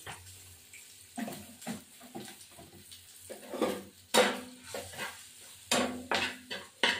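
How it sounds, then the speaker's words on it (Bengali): Hilsa fish and eggplant curry being stirred with water in a metal pan, a spoon scraping and clinking against the pan in irregular bursts amid wet sloshing, close and fairly quiet. "এবার একটু জল দিয়ে নাড়াচাড়া দিয়ে"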